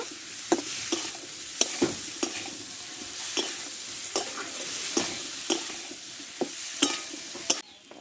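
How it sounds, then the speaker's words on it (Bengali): Fried potatoes and watermelon rind being stir-fried together in a pan, a low steady sizzle with sharp spatula scrapes and knocks against the pan at irregular intervals, close up. "এবার ভেজে রাখা আলু তরমুজের খোসাটা আমি এতে দিয়ে দেবো একসঙ্গে ভালো করে কষে নেব"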